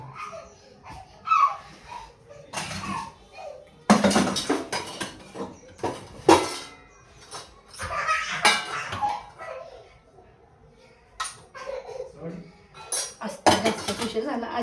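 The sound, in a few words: dishes, pots and pans clattering while cooking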